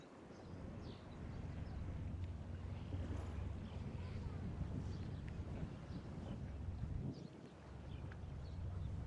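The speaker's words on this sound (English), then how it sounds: "the captain had to spool up that engine and do a quick power load" A boat engine drones and rumbles steadily as it powers the boat onto a trailer at a boat ramp on Lake Saint Clair, Michigan, with wind buffeting the microphone throughout.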